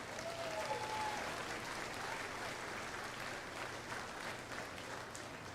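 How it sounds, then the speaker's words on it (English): A crowd applauds the kids at the Muskingum County Fair junior market beef show, with steady, moderately distant clapping that holds for several seconds, a faint whistle rising early on. "Give these kids a round of applause."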